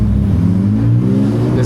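A BMW E46 engine revs hard while the car drifts on a rain-soaked road, a loud sustained rising drone heard from inside the car, with a voice talking over it.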